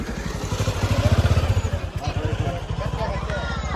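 A motorcycle putters past slowly at close range, its engine a steady low pulsing thrum that swells and fades slightly, with voices and background chatter mixed in.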